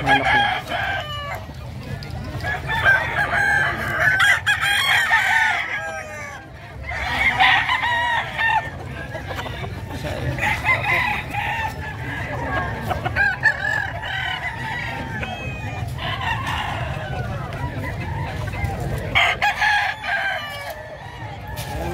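Roosters crowing again and again alongside clucking hens at a livestock market in San Carlos City, Pangasinan. The crowing is loud and close and carries over a steady low murmur of market noise, with faint voices in the background.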